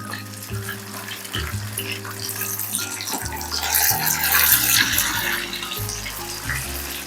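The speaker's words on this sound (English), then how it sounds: "Then we're gonna let these cook for about 5 to 8 minutes, or until we see that they are nice and golden brown." Turkey and dressing meatballs frying in a pan, a steady close sizzle that swells louder midway, playing under background music.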